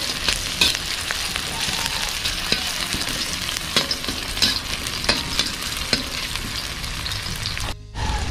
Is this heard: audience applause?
no